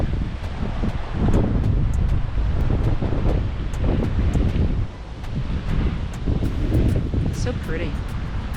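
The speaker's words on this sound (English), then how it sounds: "Breezy." Steady broadband wind roars outdoors near a waterfall canyon, buffeting the microphone in loud continuous gusts with a brief lull midway.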